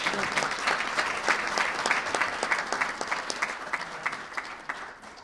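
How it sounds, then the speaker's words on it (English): Audience at a press event with New York's governor breaks into applause, a continuous burst of many hands clapping that holds steady for several seconds and then begins to fade. "Let's give him a huge round of applause for coming."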